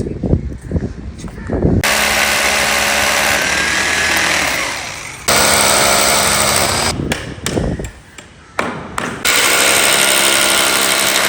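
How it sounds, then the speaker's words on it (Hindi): A power tool drives screws into a metal frame set level with a boundary edge, loud, close and sustained in long whirring runs broken by brief pauses and short bursts. "अब इस फ्रेम को इस वाली जो बाउंड्री बनाई है इसके लेवल से लगाएंगे, स्क्रू करेंगे ऐसे और ऐसे"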